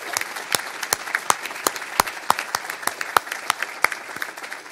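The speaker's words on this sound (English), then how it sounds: "I'd like to give these gentlemen a round of applause for this great accomplishment." Moderate applause at a municipal First Friday event honouring utility workers and firefighters, with sharp individual claps standing out rhythmically over a softer bed of clapping from a modest crowd.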